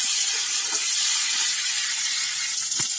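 Chopped onion and tomato fry in a pan with roasted chickpeas and peanuts for a cabbage curry, making a steady close sizzle with a single stirring knock near the end.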